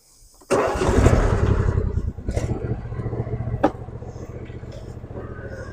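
A John Deere lawn mower engine catches and starts, settling into a loud, steady idle close by with a brief rev partway through; no speech is heard.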